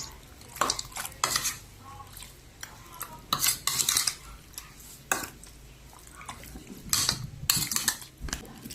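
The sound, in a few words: mixing chicken with oyster sauce and seasoning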